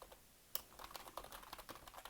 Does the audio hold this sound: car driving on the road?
no